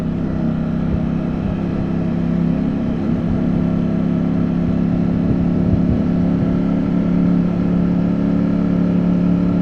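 A 2022 Ducati Streetfighter V4S motorcycle engine rumbles steadily while riding through New York City, a constant mid-pitched drone with mild revving swells, close and loud with no talk.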